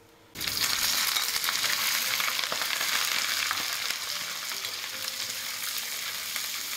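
Green beans stir-frying in plenty of hot oil in a wok, a loud steady sizzle bursting in after a brief quiet start and crackling on evenly throughout with no voices.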